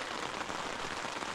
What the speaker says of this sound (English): the rain started. We just assumed it wasn't coming, but it finally came.